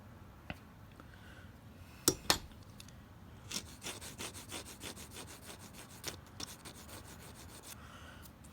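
Knife blade being sharpened on a diamond 70 grit stone, a gritty scraping rhythm of rapid strokes following a few sharp clicks, close but faint, with no talk.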